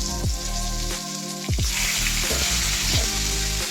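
Potato and pointed gourd sizzle and crackle in hot oil close by, a steady frying hiss over a low electrical hum, with no voices.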